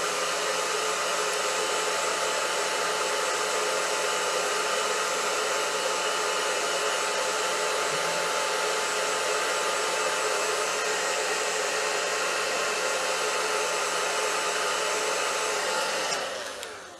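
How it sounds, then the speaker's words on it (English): A hair dryer blows loudly and steadily up close with a constant whirring roar, then switches off at the end. "So then what I do is I take a blow dryer."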